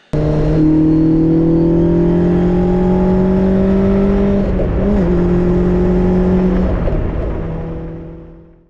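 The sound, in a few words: Caterham 7 450HPR engine accelerating hard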